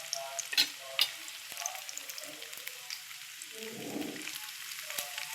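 Homemade paneer frying in a pan with salt and turmeric, a steady close sizzle with a couple of sharp pops and brief bubbling surges, no voices.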